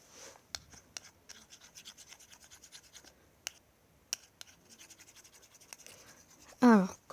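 Homemade slime being stirred with a little water gives soft, irregular scraping and squelching strokes, close and quiet, with a louder burst near the end.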